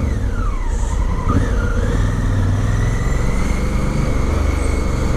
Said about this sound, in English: Not sure what's going on with the traffic today.